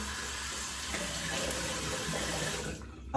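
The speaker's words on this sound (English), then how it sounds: "Let's go ahead and rinse off." Tap water runs steadily from a faucet while a razor is rinsed during shaving, a close, even rush of water that cuts off near the end.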